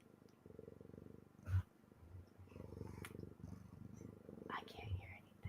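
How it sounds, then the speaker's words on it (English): A soft, steady cat purr rumbling in low pulses, close and continuous, with a few faint breathy noises over it. "Can you hear that purring?"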